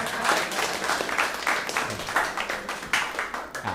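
An audience claps in scattered, uneven bursts at a comedy show, moderately loud and close, with the individual hand claps standing out rather than merging into one steady roar.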